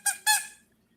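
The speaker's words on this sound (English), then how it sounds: "Sorry, it's a rubber squeaky." Two quick, sharp squeaks from a rubber squeaky toy, close and clear, followed by quiet.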